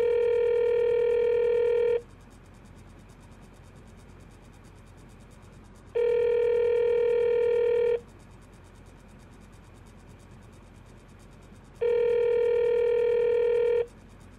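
Telephone dialing effect in a radio drama: three identical two-second bursts of steady electronic tones, evenly spaced about six seconds apart over a quiet background hiss.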